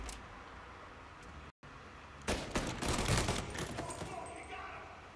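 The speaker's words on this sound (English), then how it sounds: "I can hear them shooting," Gunfire in the Mafia Definitive Edition video game: a dense burst of shots starts after a brief dropout and continues loudly in a rapid, rattling volley that trails off toward the end.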